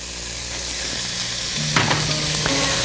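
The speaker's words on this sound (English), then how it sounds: "Get the pan nice and hot. In go some onions and garlic that I've mixed here together." Onions and garlic sizzle as they hit a hot pan, a steady loud frying hiss close by with a few sharp clinks and scrapes of stirring partway through.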